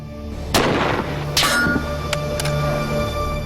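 Gunshot fired through an aluminium timing circuit, a sharp loud crack followed by a second metallic impact and faint clinks, then a steady low hum.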